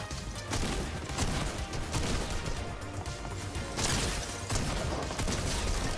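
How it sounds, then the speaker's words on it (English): Flare gun fired in a video game, followed by a dense, loud barrage of crackling, booming shots and crashes that continues without a break. "Oh, got a flare gun. Let's shoot this up."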